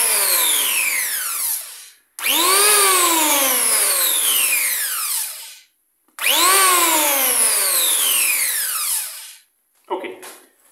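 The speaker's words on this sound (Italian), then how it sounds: "attacchiamo la spina del pialletto. Ok, e ve la faccio intanto sentire in funzione" A Virutex CE 96 H curved electric planer, built for concave and convex surfaces, runs in two long loud bursts. Its motor whines up at each start and spins down at each stop, and a brief clatter follows.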